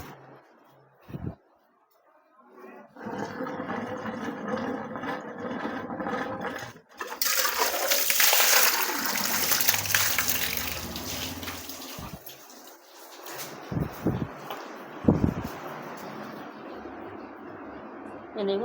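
Fresh water runs from a tap at home, gushing steadily for several seconds and changing tone as a container fills, with someone talking over parts of it and a few splashes and knocks near the end.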